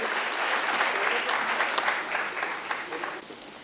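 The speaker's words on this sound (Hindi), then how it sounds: "एक बार पूरा सदन मिलकर तालियां बजाए" Sustained audience applause fills a hall at a Hindi poetry gathering (kavi sammelan) as a poet is welcomed to the stage, a steady dense clatter of many hands that thins slightly toward the end.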